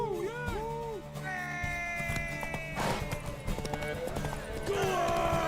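Horse hooves clip-clop in The Witcher 3 amid a busy game soundscape, with music tones, occasional whinny-like sounds and shouting voices layered over a steady background.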